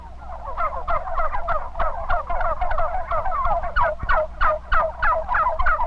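Many young bronze turkeys gobble continuously in a dense, overlapping chorus of warbling calls, close and loud with a steady low background rumble.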